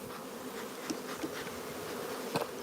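Honeybees buzz in a steady, fairly faint drone during a nuc transfer into a hive, with a few individual bees flying close by in louder passes.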